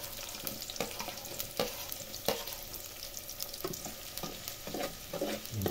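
Garlic sautés in hot oil with onions for Kapampangan buro, giving a continuous crackling sizzle with irregular louder pops and stirring scrapes close by. No voices are heard.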